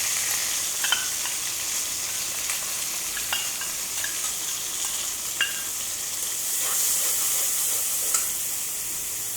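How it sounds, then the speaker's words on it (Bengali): Fish and spices frying in hot oil for a fish curry, a steady close sizzle with faint scrapes and light clinks of stirring scattered throughout, no voices. "ফ্রাই করে মশলাটা দিয়ে দেবো।"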